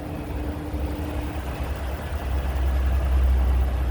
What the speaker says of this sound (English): And that EcoBoost engine is sounding good